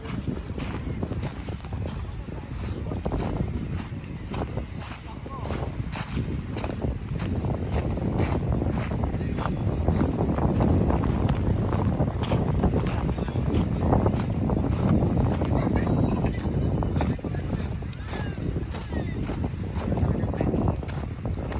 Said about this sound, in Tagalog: mahangin kasi paulan na nga